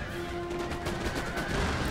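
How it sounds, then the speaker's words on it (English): Point-blank cannon fire in an Empire: Total War battle, with rapid overlapping volleys of shots crackling and booming continuously, close and loud. "Oh, lots of point blank cannon fire."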